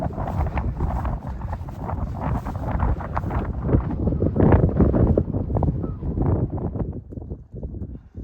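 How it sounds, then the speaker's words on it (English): Steady wind buffeting a microphone on Bleaklow moor, a loud low rumble that surges and gusts throughout with no voices. "whatever the weather conditions, it's always a bit windy"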